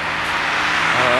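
Car passing on a climbing road near Assisi, a broad rushing whoosh that swells toward the end, close by and fairly loud.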